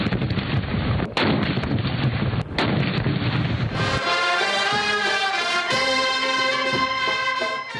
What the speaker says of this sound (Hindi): तकरीबात का आगाज वफाकी और सूबाई दारुल हुकूमतों में तोपों की सलामी से हुआ